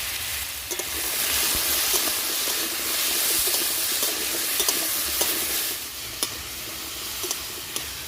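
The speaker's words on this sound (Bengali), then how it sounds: "হলুদ লবণ দিয়ে আমি ভালো করে ওলগুলোকে নেড়ে চেড়ে মিশিয়ে নিয়েছি" Chunks of elephant foot yam tossed with turmeric and salt hiss and sizzle steadily in a hot pan while a spatula scrapes and clicks through them, close and continuous with no talking.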